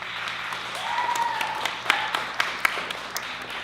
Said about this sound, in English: Let's clap for Ava